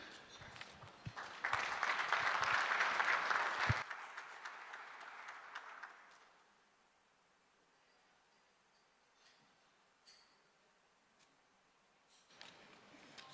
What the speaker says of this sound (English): Once more, a round of applause for them, please